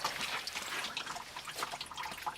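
Water runs steadily from an open tap at a country house in winter, a continuous hissing trickle with faint splashing, fairly quiet and close, with no talking.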